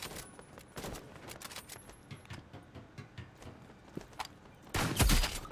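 Close-range gunshots in a Roblox Rivals 2v2 match, heard as scattered sharp cracks and clicks over quiet game noise, ending in a louder burst.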